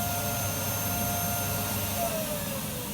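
A shop vacuum runs steadily and loudly, a continuous whining drone holding even for the whole stretch without pauses, used to clean up after scraping.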